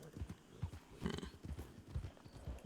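Turkmen horse hooves clip-clop in a steady, close rhythm on a Red Dead Redemption ranch, a series of distinct footfalls with no talking.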